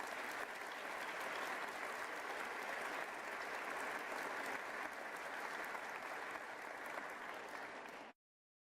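Sustained, even applause from a large audience at a State of the State address, greeting newly appointed Intermediate Court of Appeals judges. It stays steady and quite faint for about eight seconds, then stops abruptly.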